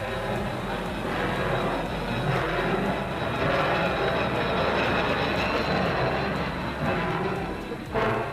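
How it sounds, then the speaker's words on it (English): A powerful diesel locomotive rumbles steadily along the Iran to Russia route, a dense, continuous roar of engine and rolling wheels with faint voices mixed in. "the powerful diesel locomotive"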